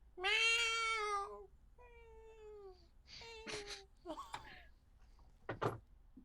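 A person imitates a loud cat meow, one long drawn-out yowl followed by shorter, quieter meow-like calls and a few soft rustling sounds in a quiet space.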